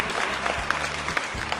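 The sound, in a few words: applause for a guest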